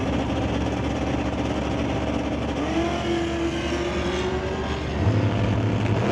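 A Camaro drag car launching at an NHRA drag strip: a loud sustained engine roar with a rising tone, a gear shift and a fresh surge near the end, heard alone without commentary.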